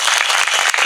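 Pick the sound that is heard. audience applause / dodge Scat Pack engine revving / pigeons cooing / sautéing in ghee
audience applause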